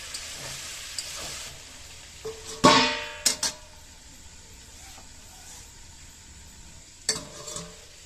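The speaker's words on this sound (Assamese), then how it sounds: "এই ধৰণৰ অকণমান মাংসটো লৰাই দি আছোঁ" Chicken meat stirred in a pan with ginger and garlic, faint steady sizzling beneath a few sharp scraping clatters of the spoon against the pan, quiet and close.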